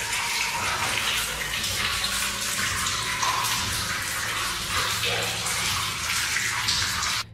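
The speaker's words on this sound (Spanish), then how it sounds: "el agua que gotea de algún modo opaca los sonidos de aullido que escucha este hombre" Water dripping and trickling inside an old mine tunnel, heard as a steady, fairly loud hiss of running water throughout, with no voices.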